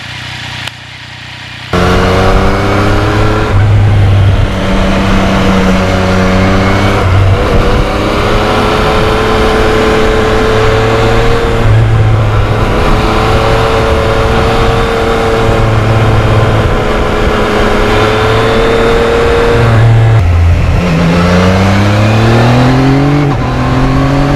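A Yamaha MT-09 motorcycle engine drones loudly while riding, a continuous close roar whose pitch rises and falls through gear changes and throttle shifts, with wind rush underneath.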